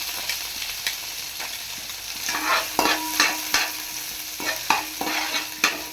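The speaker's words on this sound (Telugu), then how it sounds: "ఇందులో ఉల్లికాయలు వేస్తున్నాను" Sliced onions fry and crackle in hot oil with whole spices for biryani, with a steady close sizzle and repeated scraping, clacking stirs of a spoon against the pan.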